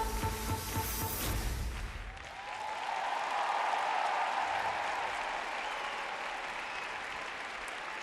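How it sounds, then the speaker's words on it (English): Arena crowd applauding after a women's short program at the World Figure Skating Championships in Prague, a dense, steady roar of clapping that takes over from the music and continues loudly throughout. "the choreographer, Adam Salja, applauds his student, Iida Karhunen from Finland"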